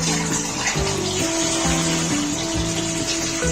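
Water poured from a height into a large cooking pot of beef paya, a loud continuous gushing splash with a steady rushing texture, close and alone without any talking.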